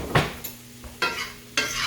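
Onions and green onions sautéing in a pan, with three distinct scraping stir strokes over a soft, continuous sizzle, close and clear with no talking.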